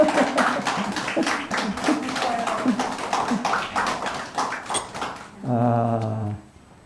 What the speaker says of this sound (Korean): 예, 박수로 격려하겠습니다.